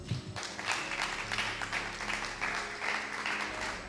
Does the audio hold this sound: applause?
yes